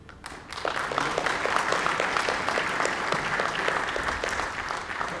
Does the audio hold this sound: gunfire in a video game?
no